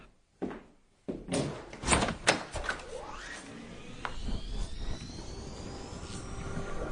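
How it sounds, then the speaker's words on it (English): A handle turns with a click, then a door opens with clunks and a brief rush of air, followed by a low steady rumble in the room, close and fairly quiet. "A gust of air whirled round me as I opened the door."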